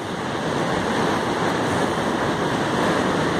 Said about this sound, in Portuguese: já chegou aqui novamente a água do mar